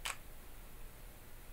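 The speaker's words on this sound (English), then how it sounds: "you press down the shutter" A digital camera shutter set to bulb mode gives one short, crisp click right at the start, followed by quiet room tone.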